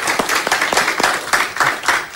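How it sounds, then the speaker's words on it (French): An audience claps in a steady, moderate round of applause, with individual claps audible in a quick rhythmic patter throughout. "vous applaudissez comme si vous étiez jaloux."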